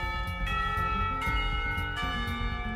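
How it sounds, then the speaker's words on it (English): A school bell chimes in the video game Katawa Shoujo, a sustained tonal ringing at steady volume with repeating strikes, heard alone without talk. "I'd argue more, but the bell rings."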